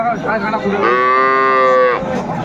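A single long, loud moo from a dairy cow at a cattle market in Aftabganj, Dinajpur, drawn out and close, rising and then fading after about a second.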